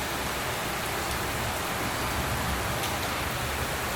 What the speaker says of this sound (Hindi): बारिश तो बहुत तेज़ हो चुकी है।